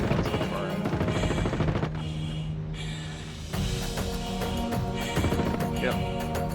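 Sustained automatic gunfire in the Star Citizen video game combat at a Caterpillar wreck, dense rapid bursts nearly continuous and loud, with a brief lull partway through and heavy game ambience underneath.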